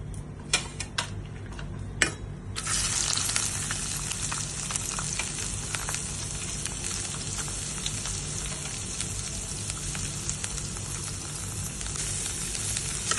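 Onions hit a hot pan of fenugreek, whole garam masala and bay leaf for a Bengali doi katla fish curry, a few utensil clinks giving way to a steady, close hiss of frying that holds to the end, with no voices.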